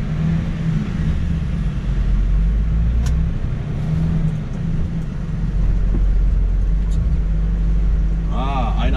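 A truck pulling a semi-trailer moves off with a deep, loud engine rumble that rises and holds, heard from inside the cab, with a brief whine near the end.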